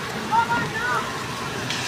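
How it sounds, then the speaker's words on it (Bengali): Heavy rain falls outdoors with children out in it getting soaked, heard as a steady, dense wash of hiss and patter that holds at an even level throughout. "অনেক বৃষ্টি হইতেছে বাচ্চারা ভিজতেছে বৃষ্টিতে"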